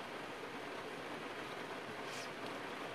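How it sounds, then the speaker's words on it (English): Steady rain falls on a car during a downpour, heard from inside as a dense, even hiss with no breaks, fairly quiet and without talk. "in the car, stuck in the rain."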